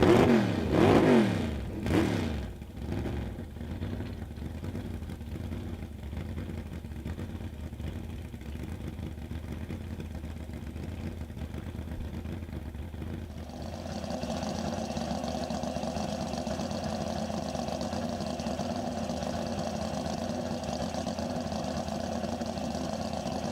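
A 750cc modified gas-fuelled motorcycle makes a land speed run on the salt, starting with a few sharp revs, then settling into a steady, sustained engine whine that steps up in pitch and holds to the end.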